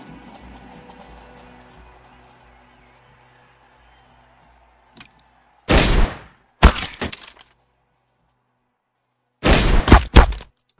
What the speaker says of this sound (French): seules les détonations et les impacts de balles sont audibles